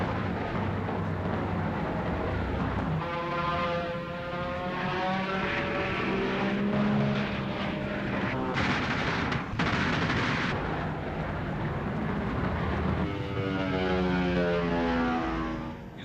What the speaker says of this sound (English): The bandits are sighted and begin their slashing attacks through the bomber formations.